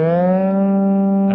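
Electric guitar in a lesson sustains a single distorted, steady note for over a second, with a brief change right at the end, loud and alone with no talk.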